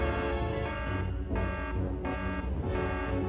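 Sensor alarm tripped in a G.I. Joe cartoon, a loud harsh buzzing tone that pulses on and off in repeated bursts with no talking over it.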